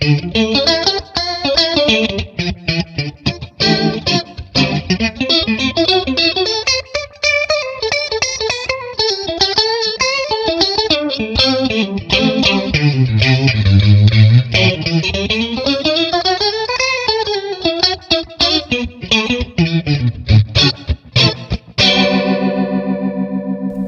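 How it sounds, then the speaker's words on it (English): Electric guitar through a rotary speaker effect on an IK Multimedia TONEX FX unit, set to a fast speed with wide spread, playing continuous melodic lines with a swirling, warbling modulation and some grit, loud and alone, ending on a ringing decay. "Yes, I love that kind of rotary tone"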